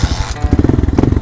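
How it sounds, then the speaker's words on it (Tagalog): A motorcycle engine runs close and loud with a rapid, pulsing thump, then revs up and keeps a steady throbbing beat, setting off for a ride around Pampanga. "So motor muna tayo ngayon."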